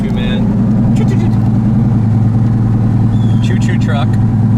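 Turbocharged LSX-swapped Chevrolet Colorado truck engine while driving, a loud steady low drone from inside the cab with a constant rumble, a few brief higher whistles and squeals riding over it.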